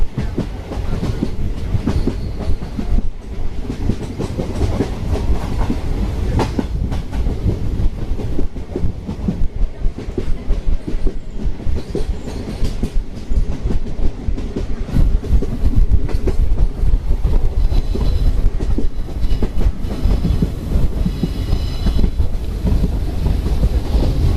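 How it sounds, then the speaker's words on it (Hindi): Ranikhet Special Express rolling onward after a one-minute stop at Kishangarh, heard from on board: a steady loud rumble with rhythmic wheel clatter and wind buffeting that swells partway through and carries on without talk. "अब अपनी ट्रेन यहाँ से अगले सफ़र की ओर निकल चुकी है।"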